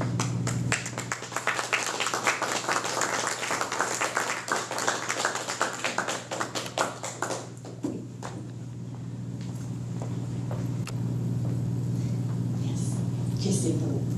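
Audience applause after a French poetry reading at a book launch, dense clapping for about seven seconds that then fades into room murmur and a few scattered claps.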